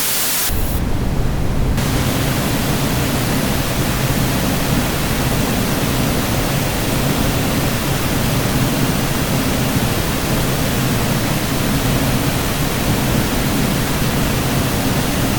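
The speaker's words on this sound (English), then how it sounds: "So here's a pink noise demo." Steady, loud broadband hiss of pink noise, deep and even like rushing water, continuing unchanged after a brief start.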